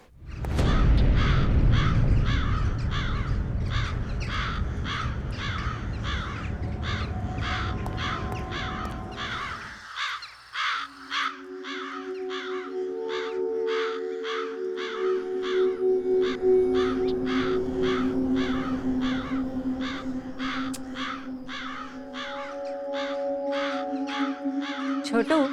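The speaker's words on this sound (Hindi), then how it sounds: "ये कौवे यहाँ पर ऐसे ही रहते हैं क्या? इनके कांव कांव ने मेरा सिर दुखा दिया है।" Crows caw loudly in a dense, steady series of harsh repeated calls through the whole span, first over a heavy low rumble that cuts off partway, then over sustained tonal hums.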